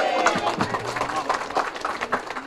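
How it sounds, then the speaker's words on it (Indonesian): An audience at a political volunteer gathering claps in a dense, steady patter of many hands, with crowd noise and voices mixed in. "Tepuk tangan."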